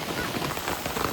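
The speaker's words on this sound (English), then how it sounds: "it started really pouring" Heavy rain pours steadily onto a tent on an Appalachian Trail section hike, a dense, close, continuous hiss and patter with no gaps.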